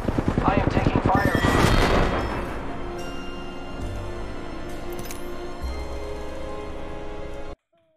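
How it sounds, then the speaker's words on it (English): Gunfire in the battle royale game Apex Legends: a loud burst of rapid shots in the first two seconds, then sustained noisy battle sounds that cut off abruptly near the end. "I am taking fire."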